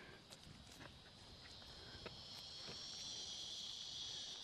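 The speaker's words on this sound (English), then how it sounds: "Cicadas." Cicadas buzz in a steady high-pitched drone that swells louder over a few seconds, heard outdoors at moderate distance with faint scattered footsteps and thumps.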